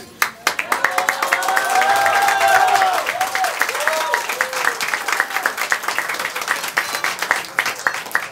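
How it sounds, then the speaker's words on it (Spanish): A concert audience applauds the Instituto Intercultural Calmeca with dense, sustained clapping that swells early and then thins into sharper individual claps, while voices sing and call out over it. "me gustaría que pues le dieran un gran aplauso de verdad al Instituto Intercultural Calmeca."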